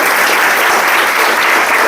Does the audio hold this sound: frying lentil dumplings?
no